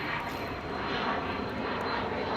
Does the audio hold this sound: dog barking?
no